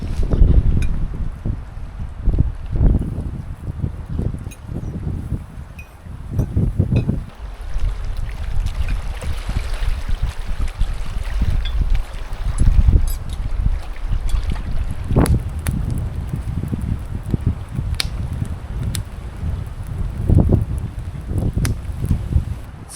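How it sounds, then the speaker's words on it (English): Gusty wind buffets the microphone outdoors in low rumbling bursts, with faint water sounds underneath. "It's a little bit windy out here,"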